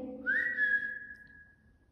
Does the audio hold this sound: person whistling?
yes